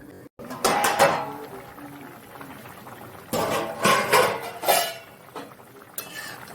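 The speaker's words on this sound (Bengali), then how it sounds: "আবার ঢেকে দিচ্ছি 2 মিনিটের জন্য।" A lid placed over a pot of Rohu fish curry with bitter gourd and potato, metal clinking and rattling in a few close bursts separated by quiet simmering.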